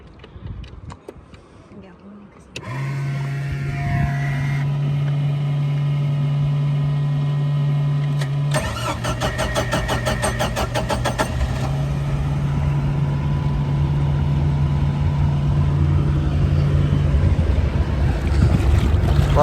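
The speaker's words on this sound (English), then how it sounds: "Get running and turn on the bilge." A 1988 StingRay Supersport boat engine starts and runs, a steady loud drone with a strong low hum and rattling overtones, continuing throughout after the start; water splashing may be mixed in.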